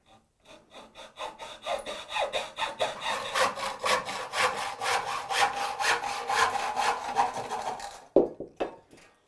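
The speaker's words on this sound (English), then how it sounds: "I had to ask my cameraman to help me saw these strips." A handsaw cuts through thin wooden strips for a TV frame, with a fast, steady rhythm of close rasping back-and-forth strokes ending with a couple of knocks as the cut finishes.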